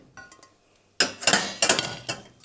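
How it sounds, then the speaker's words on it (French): Metal saucepans clank and clink close by in a home kitchen as they are pulled out and handled, starting with a few light taps and then breaking into a burst of loud, ringing clatters. "Il nous faut plein de casseroles."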